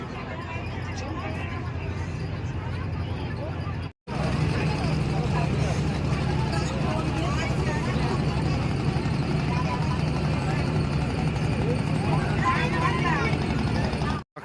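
A ferry boat's engine drones steadily and loudly as it leaves the jetty, underneath a busy crowd of chattering passengers, with brief cut-outs at the start and end.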